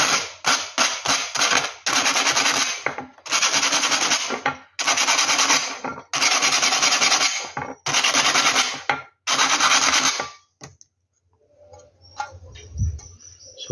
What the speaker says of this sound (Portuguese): Você quer uma lixa 80.